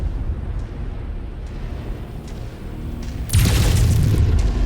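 A heavy, loud explosion as a destroyed target blows up in the MechWarrior 5 video game, bursting suddenly after a quieter rumbling stretch and sustaining a deep roar to the end.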